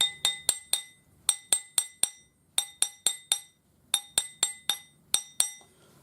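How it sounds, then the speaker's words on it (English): The flat face of a planishing hammer strikes a metal spinner ring on a mandrel, ringing clinks in quick bursts of three to five sharp, close blows with brief pauses between groups. "I'm using a planishing hammer and the flat side of the planishing hammer, not the domed side."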